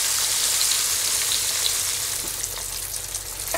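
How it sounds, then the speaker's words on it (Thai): Pieces of tilapia deep frying in hot oil give a loud, continuous crackling sizzle with dense popping, steady and close with no voices. "เดี๋ยวผมขอทอดส่วนนี้สักครู่หนึ่งเดี๋ยวพอมาเหลืองกรอบได้ที่แล้ว"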